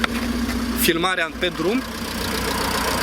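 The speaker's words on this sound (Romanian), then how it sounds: "voi porni și motorul ca să auziți cum funcționează și cum toarce." A Ford Mondeo mk4 with about 280,000 km idles, giving a low, steady hum underneath a brief burst of nearby talk.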